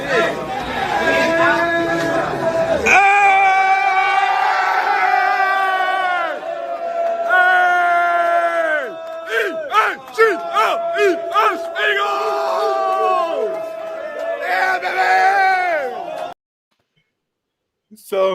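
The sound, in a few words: crowd yelling and cheering at a bathroom stall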